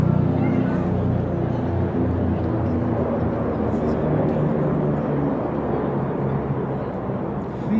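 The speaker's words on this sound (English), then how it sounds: "What a beautiful display of the BK117 with precision of the expert flying skills of these pilots." BK117 helicopter in a flying display at a presidential inauguration in South Africa, a steady loud rotor and engine drone holding throughout with no break.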